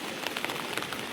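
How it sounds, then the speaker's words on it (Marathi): Heavy rain falls in Deravan in the Konkan region, a dense continuous patter with close drops pattering and ticking on surfaces, steady and fairly loud without any voices. "पाऊस लागतोय दाखवतो तुम्हाला"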